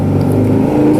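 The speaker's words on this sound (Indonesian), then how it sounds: "Aduh, udah suara motor nih." A motorcycle engine drones steadily and loudly nearby, a continuous low hum without pauses.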